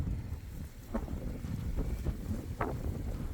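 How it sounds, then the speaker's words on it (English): Strong wind buffets the microphone outdoors while gold panning black sand, producing a continuous low rumbling roar with a few brief gusty peaks and no clear voices. "This wind is brutal."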